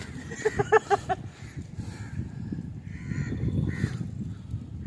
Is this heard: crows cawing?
yes